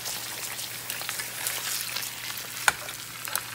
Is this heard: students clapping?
no